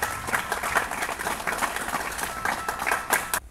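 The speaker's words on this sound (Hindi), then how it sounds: "इनके लिए तालियां बजाएंगे" An audience at a talk on HIV and AIDS claps for a guest, giving a modest burst of scattered applause at moderate volume that stops abruptly near the end.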